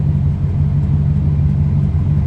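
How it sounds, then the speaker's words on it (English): A car engine rumbles loud and steady from inside the vehicle, a deep continuous drone with no breaks and no voices over it. "the car is really loud"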